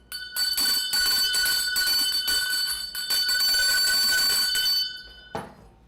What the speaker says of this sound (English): Andrew, ring the bell again.